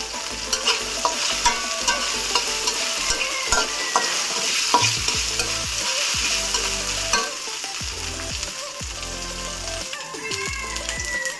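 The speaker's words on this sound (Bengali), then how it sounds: "আবার একটু নেড়ে চেড়ে নেব।" Ginger, onion and green chillies fry in a pan for a fish-head dish, making a loud, dense sizzle punctuated by repeated scraping and stirring strokes of a spatula throughout.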